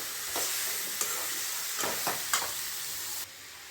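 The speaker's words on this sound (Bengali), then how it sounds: "এঁচোড় দিয়ে নাড়াচাড়া করে নেব আবার।" Jackfruit pieces are stirred into fully fried spices in a pan, a continuous sizzle with several scraping strokes of the spoon, close and fairly loud, cutting off abruptly near the end.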